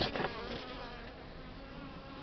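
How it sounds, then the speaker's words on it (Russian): A continuous droning buzz of honeybees in flight close by during a winter cleansing flight in December, steady and fairly loud throughout, with no voices. "Пчелки довольно резвые такие."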